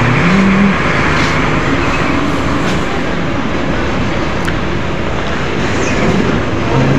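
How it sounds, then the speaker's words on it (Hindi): A truck's engine rolls in loudly and steadily, a continuous rumbling drive with no talking. "ये आ रही है जी अपनी गाड़ी"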